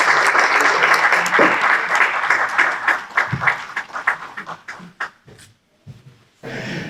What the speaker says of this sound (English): please let's give a round of applause as I welcome Professor David Weir to give us a plenary talk for today